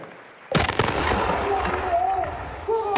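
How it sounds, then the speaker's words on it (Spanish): After a short quiet moment, a sharp blank-round blast from a ceremonial artillery salute at a presidential inauguration in Colombia cracks out, followed by rolling echoes and crowd noise that continue loudly. "Estos disparos de salva marcaron un giro en la política de seguridad y defensa del país."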